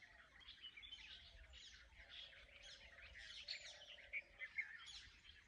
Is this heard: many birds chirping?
yes